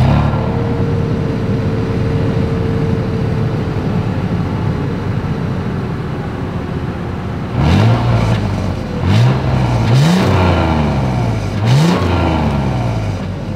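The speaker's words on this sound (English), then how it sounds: "I do believe you guys know what we have to do next is always here is that exhaust clip." 2023 Toyota 4Runner idling with a steady low exhaust rumble, then three or four sharp throttle blips in the second half, each rising and falling quickly, heard close and alone.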